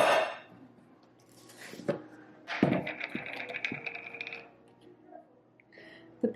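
An empty plastic butter container is washed at a kitchen sink, with bursts of running water alongside clinks and knocks of the tub against dishes, scattered irregularly at close range.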